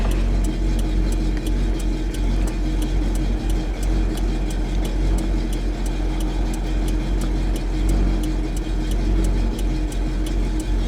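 A pickup truck with its bed loaded down heavily enough to sag at the rear, heard from inside while driving: a steady, loud engine drone runs the whole way through, with a regular faint ticking pulsing over it.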